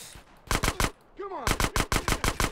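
Rapid gunfire from a stronger weapon in the video game GTA San Andreas: a quick burst of three loud shots, a short pause with a faint whooshing chirp, then six more evenly spaced shots, close and punchy.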